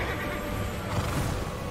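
A horse neighs in Immortals Fenyx Rising, one loud close whinny lasting the whole short moment, with no talking.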